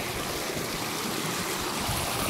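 Water in a stream near Mahendragiri in Gajapati district, Odisha, rushes and gurgles in a steady, close, continuous wash with no voices over it.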